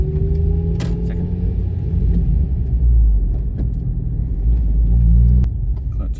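Manual car driving steadily in second gear, a continuous low engine rumble and road noise holding close and loud throughout, with a slight rise near the end before easing off.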